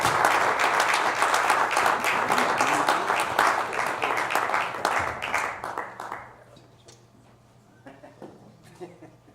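An audience applauds to welcome a performer to the stage, a dense burst of clapping that fills the room for several seconds and then thins out and fades to a few scattered claps.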